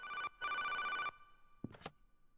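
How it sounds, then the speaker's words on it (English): An office telephone placed in an Unreal Engine 5.7 level rings in two long bursts of a bright electronic bell, followed by a few short clicks. The ringing is clear and carries a touch of reverb. "so proper office phone sound"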